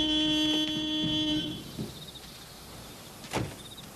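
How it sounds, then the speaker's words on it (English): A car horn sounds in a steady, loud blast for about a second and a half, then cuts off, leaving faint rustling and a short thud near the end. "You're not supposed to honk the horn."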